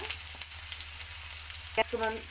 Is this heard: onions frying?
yes